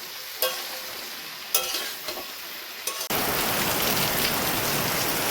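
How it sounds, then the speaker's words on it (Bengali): Heavy rain falls in a monsoon-like downpour, first muffled with a few sharp knocks, then abruptly becoming a loud, close, continuous hiss of rain on surfaces. "এত বৃষ্টি হচ্ছে আমাদের এখানে"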